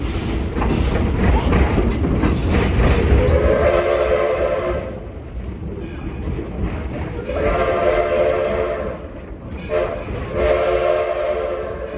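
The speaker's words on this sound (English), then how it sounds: "It might go with whistle hard right there" The Edison steam locomotive at Greenfield Village rumbles steadily while its loud whistle sounds in long repeated blasts, a harmonic tone that swells, breaks off, and returns over the engine noise.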